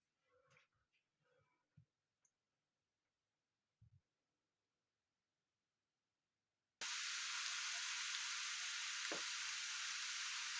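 After a few quiet clatters and taps, a loud, steady sizzle abruptly starts as chopped onion and carrot hit a hot pan and keep frying up close for borscht.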